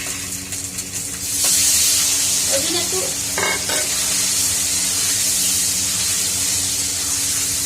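Paneer dropped into hot oil, bursting into loud hissing, splattering sizzle that stays steady after the initial rush, with a few clinks of a utensil and brief talk near the start.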